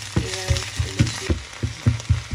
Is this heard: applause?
no